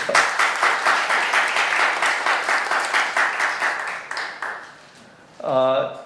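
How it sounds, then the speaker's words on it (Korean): Audience at a welfare forum applauds steadily for about four seconds, the clapping fading out before a short electronic chime near the end. "동의하시면 박수 한번 쳐주십시오"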